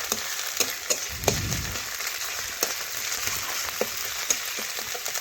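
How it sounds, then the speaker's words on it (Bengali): Onion frying in a pan with garlic paste and a ginger, cumin and black pepper paste, a steady close sizzle broken by repeated scraping clicks of a spoon stirring, no voices. "এই দেখুন এখন পেঁয়াজের মধ্যে দেব রসুন বাটা, আদা জিরে গোলমরিচ বাটা। এই দেখুন দিয়ে দিলাম। তো এটা একটু নাড়াচাড়া করে পেঁয়াজের সাথে দেখুন মিশিয়ে নিচ্ছি"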